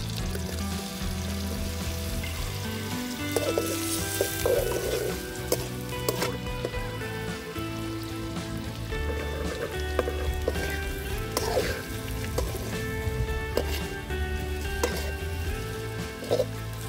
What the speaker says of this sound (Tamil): கொஞ்சமாக ஆயில், அதுக்கப்புறம் பட்டர், அது கூடவே கொஞ்சமாக உப்பு, மிளகாய் தூள் சேர்த்து நல்லா ஃப்ரை பண்ணிக்கணும்